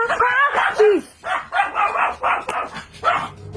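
A dog barks repeatedly in quick, sharp bursts after a knock at the door, close and loud, with a whine or yip mixed in among the barks.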